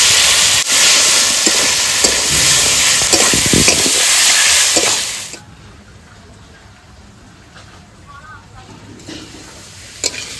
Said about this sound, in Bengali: মশলার সঙ্গে আলু ভালো করে কষিয়ে নিয়েছি